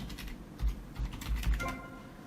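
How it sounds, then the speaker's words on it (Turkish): A computer keyboard is tapped with a short burst of quick, close keystrokes while a GTA Vice City cheat code is typed in. "Hile kodunu yazarak hilelere girebilirsiniz."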